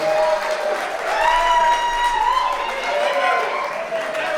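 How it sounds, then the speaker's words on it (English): A crowd claps and cheers for a round of applause for a group, steady throughout, with voices rising over the clapping. "Let's give them all one big round of applause right now."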